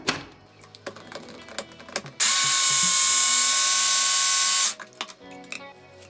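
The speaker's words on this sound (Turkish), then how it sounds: "yarım kase kadar cevizi de rondoda iyice küçültüp arasına ekleyeceğim" A food processor whirs loudly for about two and a half seconds as it finely chops half a bowl of walnuts for a raspberry cheesecake base, with quiet kitchen clatter before and after.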